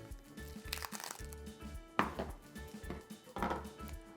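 A knife cuts through a block of cheese on a board with soft, close crunching strokes and a few sharper taps, quiet and alone.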